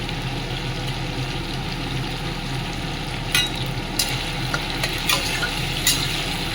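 Shrimp fry in hot oil with dried red chili, bay leaf and whole cumin, giving a steady close sizzle under a few sharp pops and spatters near the end, with no talk.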